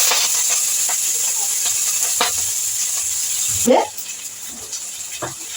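Curry leaves, fennel seeds and mustard seeds hit hot oil with a hissing sizzle that fades after a few seconds, followed by a brief loud crackle and a few soft stirring scrapes nearby.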